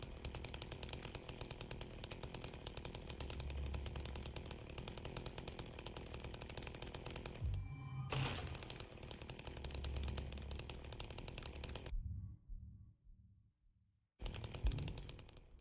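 Chainsaw from the video game Silent Hill 2 Remake, a loud continuous buzzing rasp that drops out briefly twice and is cut to silence near the end before starting again.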